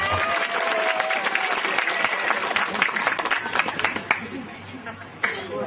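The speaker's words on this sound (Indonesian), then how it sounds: "Tepuk tangan dulu buat ini." A crowd at an Islamic sermon in Indonesia breaks into applause, with dense clapping and some voices underneath that thin out toward the end.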